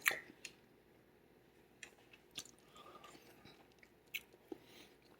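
Someone chewing a bite of homemade two-ingredient holiday fudge, soft, quiet, sticky mouth sounds with a few small clicks and squishes spread over several seconds, close to the microphone with no talk.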